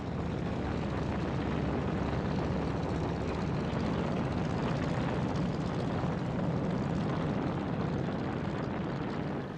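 A steady, loud drone of B-29 bomber engines runs unbroken throughout, a dense propeller roar with no voices over it, as a mass formation of at least 100 bombers sets out on an incendiary test raid on Nagoya, Japan.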